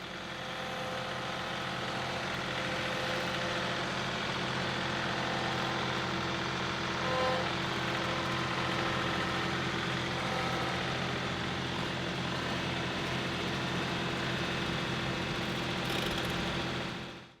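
A compact tractor engine idles steadily on a hillside dig site, a constant low mechanical drone with even broadband rumble and no change in pitch throughout.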